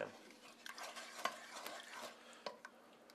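A utensil stirs and scrapes across a pan bottom in broth, loosening browned bits, with irregular scraping strokes and a few sharper clinks against the pan, close and fairly quiet over a faint sizzle.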